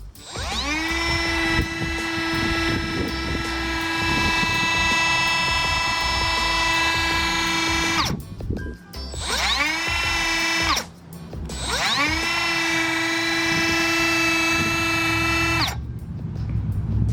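A Milwaukee 12V cordless brushless cutoff tool with a 3-inch wheel, rated 20,000 RPM, spins up with a rising whine, holds a loud steady pitch, then winds down; this repeats three times.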